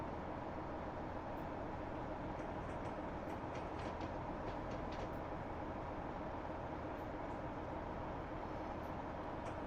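A train simulator game's passenger train on the Huddersfield Line rolls steadily into a station, a constant close rumble of wheels and motor with faint high clicks and squeaks over it, no voices.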